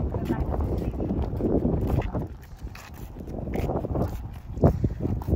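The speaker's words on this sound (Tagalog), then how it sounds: "Lakas ng hangin, guys." Strong wind gusting outdoors, roaring and buffeting the microphone in uneven surges, with a sharp blast near the end; a voice speaks faintly underneath.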